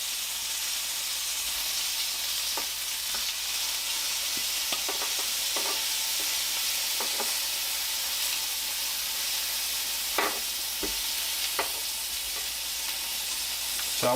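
Garlic, jalapeños and serrano chiles fry in a pan for salsa verde, giving a steady, dense sizzle throughout, with occasional light scrapes and ticks of stirring over the hiss.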